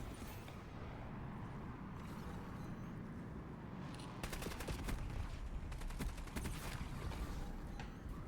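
Rapid bursts of gunfire from a Voyak KT-3 in a shooter video game, with a sustained crackling volley picking up midway over steady background rumble; no talking.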